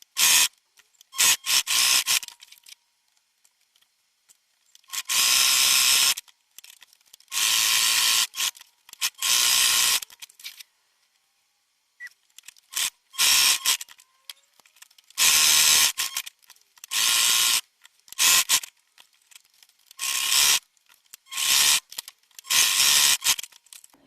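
A sewing machine runs a decorative stitch in loud, close bursts of fast mechanical clatter, starting and stopping repeatedly with short silent gaps between runs.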